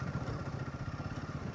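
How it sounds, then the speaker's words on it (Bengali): A motorcycle engine on a rough stretch of road in Jharkhand, a steady close rumble with rattling clatter that holds throughout without a clear approach or fade. "এই এতক্ষণে গিয়ে আমি একটা বাইক দেখলাম।"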